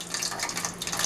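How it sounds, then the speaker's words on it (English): Tilapia fillets are dropped into hot sizzling grease for Louisiana-style fried fish, giving a dense, steady hiss and crackle that is close and continuous, with no voices. "we're about to go ahead and get the fish in this hot"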